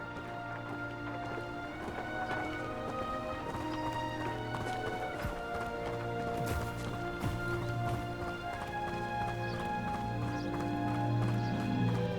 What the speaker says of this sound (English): I've always thought Thestrals pulling a carriage a bit grim.